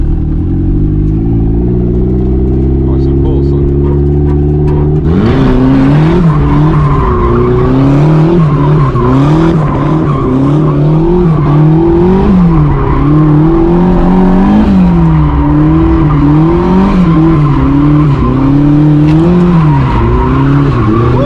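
A rear-wheel-drive WRX, a 350Z or a turbo Miata drifts with loud, sustained tire squeal and a revving engine rising and falling over about twenty seconds. A steadier engine drone comes first, and no one speaks.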